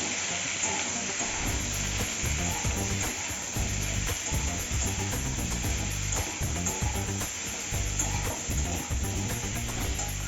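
Bottle gourd and potato are stirred in a pan, giving a continuous sizzle with repeated scraping and clattering strokes of a spatula, loud and close throughout.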